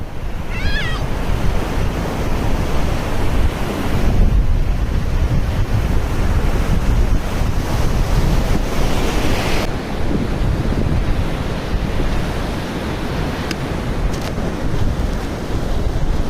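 Ocean waves at a beach near a resort in Udupi roar continuously and loudly, with heavy wind buffeting the microphone throughout.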